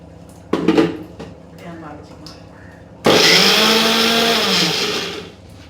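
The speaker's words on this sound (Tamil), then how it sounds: "அதையும் போட்டு நம்ம அரைச்சிக்கலாம்" A brief clatter, then a mixer grinder grinding onion and coconut roars loudly and steadily for about two seconds before cutting off.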